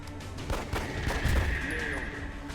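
Pistol shots at a chrysalid in XCOM Enemy Within, Long War mod: a couple of punchy gunshots with a booming tail, fairly close and loud.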